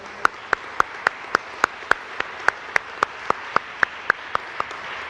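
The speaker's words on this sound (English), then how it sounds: "let's give a round of applause for all the instructors" Slow, evenly spaced claps, about eighteen crisp strikes in steady rhythm, fairly close, at a Linden Police Department junior graduation ceremony honoring the police instructors.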